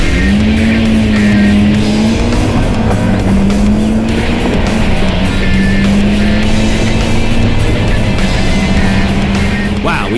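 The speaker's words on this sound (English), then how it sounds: "Now it's time for a drag race. Sarah's going to line them up and let them go." A Mitsubishi Evo and a Subaru STI drag race in a straight line, loud sustained engine roar with rising revs and gear changes throughout, a faint tire squeal mixed in.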